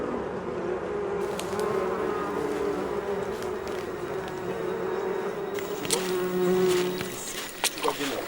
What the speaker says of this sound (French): Un bourdonnement se fait entendre. Les abeilles ont repéré ce qu'il nous reste de provisions.